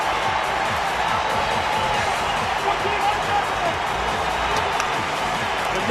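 Baseball crowd at an Arizona Diamondbacks home game against Cleveland, a steady, dense roar of cheering that holds at one level throughout, broad and fairly distant, with no single voice standing out.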